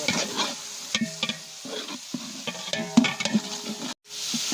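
Ginger garlic paste frying with softened onions in a pot for vegetable biryani, a close sizzle under irregular stirring scrapes and knocks. It cuts out briefly near the end, and no one speaks.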